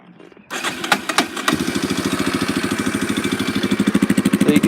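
An ATV engine fitted with a cheap homemade exhaust starts after a few rough cranks, then settles into a loud, close, rhythmic idle with evenly spaced pulses that quicken slightly toward the end.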